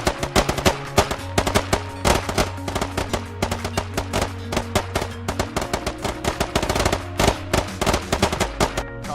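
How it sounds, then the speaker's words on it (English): Relentless, rapid machine gun fire from a squad-based military shooter video game, with loud overlapping bursts of gunshots rattling continuously with no pause. "there's no lull in the gunfire, thus talking guns"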